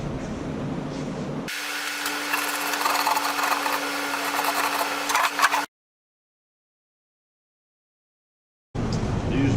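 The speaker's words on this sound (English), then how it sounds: "I use my Makita 6-inch random disc sander, random orbit disc sander" Makita 6-inch random orbit disc sander working cherry wood for a hope chest, a steady loud whir with a humming tone for about four seconds, followed by a long silence and then the sound resuming.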